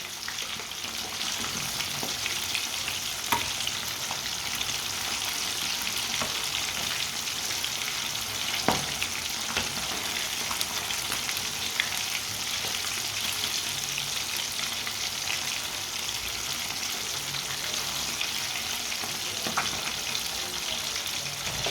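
Fish frying Punjabi-style in a pan, a steady dense sizzle and crackle throughout with occasional small pops and light clinks, no voices.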